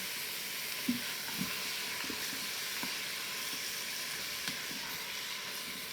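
Mince frying in an Instant Pot: steady frying sizzle with a constant hiss, a few soft clinks and stirring scrapes now and then, close and fairly quiet.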